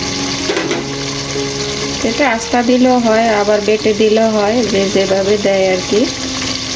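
Beef sizzles steadily in a pot as crushed fried onions are stirred in, a constant frying hiss with scraping stirs, heard under a voice talking throughout.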